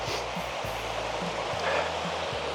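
Taf Fechan waterfall in South Wales rushing steadily, a dense continuous roar of falling water filling the scene, with low rumbling thumps pulsing underneath at irregular intervals.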